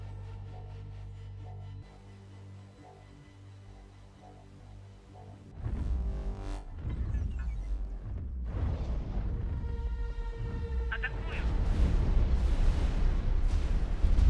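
Deep booming blasts and rapid turret fire in the game X4: Timelines build up over a droning hum, the explosions growing denser and louder toward the end.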